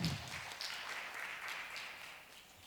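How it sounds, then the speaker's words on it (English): Faint, distant applause from a conference audience at a closing ceremony, a soft even patter of clapping that tapers off. "Please give a round of applause to him."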